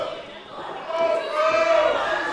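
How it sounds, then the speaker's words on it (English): Crowd at a CEW Hot Pursuit wrestling match between Michael Walker and Rob Killjoy, cheering and chanting in a rising, sustained swell from an indoor audience, with commentary voices over it. "Listen to this crowd."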